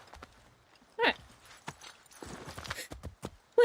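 Horse hooves clip-clop in Assassin's Creed III as the mount is ridden off, scattered irregular hoof knocks at moderate level with a louder thump and faint game sounds around them.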